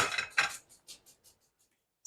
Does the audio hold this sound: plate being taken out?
yes